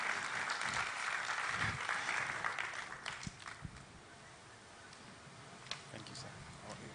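Audience clapping at a South-East stakeholders forum, a crowd's applause that is fairly dense at first then thins into scattered individual claps, faint and somewhat distant.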